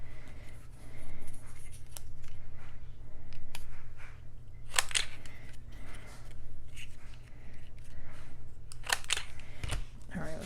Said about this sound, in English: I'm going to just even them up with my scissors.